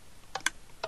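Empty guns dry-fire in Minecraft, giving three quick, faint, sharp clicks spaced unevenly over a quiet background.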